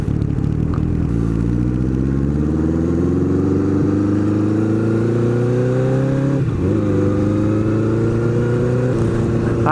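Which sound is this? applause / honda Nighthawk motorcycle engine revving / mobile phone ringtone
honda Nighthawk motorcycle engine revving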